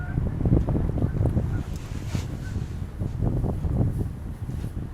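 Gusty wind buffets the microphone in an open park during a fishing outing, a continuous low rumbling roar that swells and eases in waves, loud and close, with no voices.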